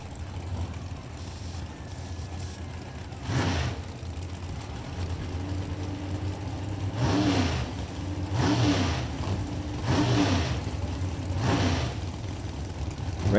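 A 1992 Chevy drag racing car at a drag strip performs a half-track burnout, its engine roaring steadily with several louder surges and revs rising over a continuous loud rumble, with no talking.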